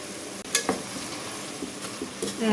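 Adobong tokwa with kangkong leaves sizzles and fries in a pan, a steady hiss broken by a few soft stirring clinks and scrapes, close up with no talking.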